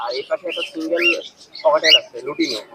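Pigeons cooing and chirping among cages at a bustling pigeon market in Khulna, Bangladesh, with soft repeated coos and short calls close by, mixed with traders talking.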